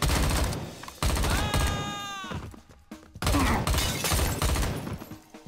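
Rapid bursts of gunfire from the player's weapon in XIII Remake, close and loud, with repeated shots over about five seconds and a brief lull in the middle.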